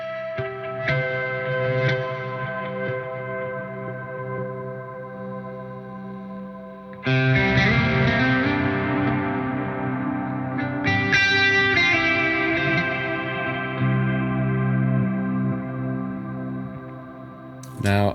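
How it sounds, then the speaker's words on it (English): Guitar chords ringing out through heavy reverb and delay pedal effects, notes echoing and washing into each other, with a louder swell of strummed distortion midway. "And now the reverb and delay."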